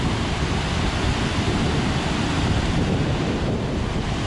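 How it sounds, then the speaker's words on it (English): Steady broadband rush of water from a waterfall seen on an outdoor walk, constant and fairly full, with no voices. "which is more or less a waterfall"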